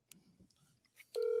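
Phone dialing a friend: soft handling clicks and rustles, then a single steady electronic dial tone begins and holds, close and clear, with no one talking.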